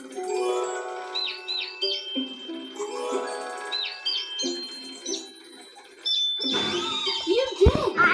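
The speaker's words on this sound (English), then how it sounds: "Time for the enemy to take a nap with Fluttershy's lullaby bird song." A bird-song lullaby from the Sprunki video game, with repeated chirping tweets over soft synthesized tones in two near-identical phrases, then brighter jingling chimes and a childlike voice near the end.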